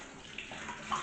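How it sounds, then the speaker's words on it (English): Water sloshes and swirls inside a bottle as it is rinsed and shaken while homemade elderflower cordial is being prepared. The splashing is steady and close, with a few brighter splashes near the end. "just to make sure it's thoroughly rinsed out"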